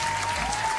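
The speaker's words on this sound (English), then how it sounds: "Let's give him a round of applause." Loud, close applause fills a short stretch of a call-in talk show, with dense clapping throughout and a steady tone running beneath it.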